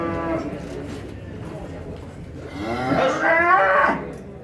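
A very large ox at a livestock market gives a long, deep, rising moo close by, with crowd murmur and talking faintly in the background.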